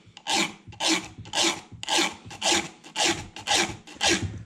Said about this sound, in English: you just want to be careful when you're filing down the depth gauge